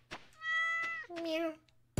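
A cat meows twice in the Stardew Valley farming game, two clear tonal cries close together in a short burst, with a soft thump at the end.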